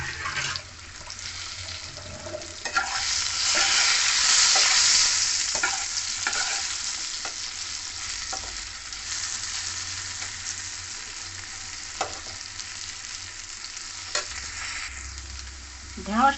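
Okra frying in hot mustard oil in a kadai makes a steady, loud sizzle for the whole stretch, with occasional soft stirring scrapes and pops over the crackle.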